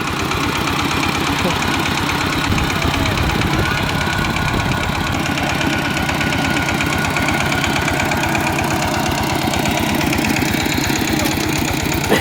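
A Thai walking tractor engine idles steadily and loudly nearby, a continuous rough chugging knock that holds level throughout with no pauses.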